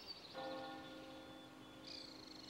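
A deep church bell in Normandy, France, strikes once and hums with a long ringing tone, followed by a fainter higher chime near the end.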